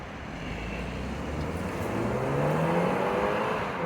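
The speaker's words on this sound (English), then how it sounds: "this is the 2-liter 4-cylinder, so we'll see how this guy takes off" A 2024 BMW X3 xDrive30i with the 2-liter four-cylinder and M Sport package pulls away under acceleration, a smooth, steady engine hum and road rush with rising tones, heard from inside the car without talk.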